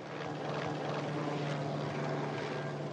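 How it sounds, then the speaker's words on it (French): A helicopter departs a castle restoration construction site, its rotor and engine roaring steadily and loudly throughout, with no voices. "Après plus de 150 rotations, l'hélicoptère quitte le chantier."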